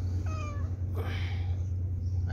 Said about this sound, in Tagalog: Meow. Aming pusa namin.